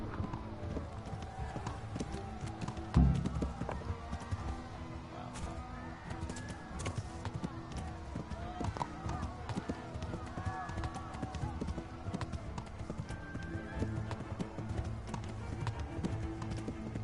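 Steady hoof clip-clop of a horse running in a PS4 video game, continuous rhythmic beats under game sounds and a player's talk.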